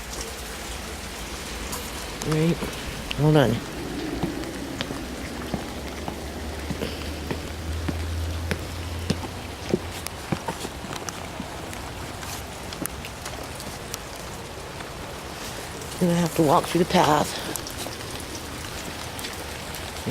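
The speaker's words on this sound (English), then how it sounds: "It's raining outside. You can hear it." Steady rain falls outside around a house and path on a wet November day, a constant dense patter close by, with a voice talking briefly near the start and again near the end.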